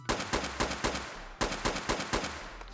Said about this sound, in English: Here is a standard SKS firing,